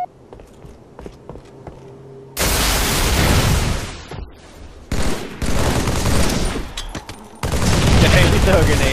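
Grenades explode in Halo 3 multiplayer in a run of loud, close blasts separated by short gaps, with faint footsteps and clicks between them.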